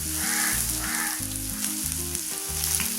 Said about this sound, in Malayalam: ഈ സവാള ഇതിനകത്തൊന്ന് വഴറ്റിയെടുക്കണം കേട്ടോ.